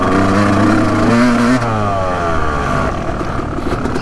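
Dirt bike engine revving hard on a muddy motocross track, a loud continuous droning roar with rising and falling pitch sweeps that fades slightly toward the end.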